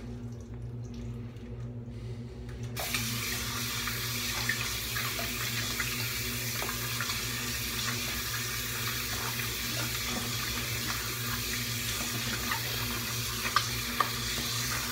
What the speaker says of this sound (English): rinsed off the hands